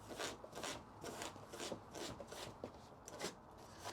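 A rag soaked in denatured alcohol is rubbed back and forth over old silicone caulk on an RV shower seam, giving a faint, steady rhythm of scrubbing strokes with no talk.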